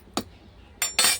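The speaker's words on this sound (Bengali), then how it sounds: "ডাঁটা আলু এ সমস্তগুলো সেদ্ধ হওয়ার জন্য ঢাকা দিয়ে দিলাম।" A metal lid is set onto a cooking pot of simmering drumsticks and potatoes for a vegetable curry: one light clink, a brief pause, then two bright metallic clatters as it settles, close and alone.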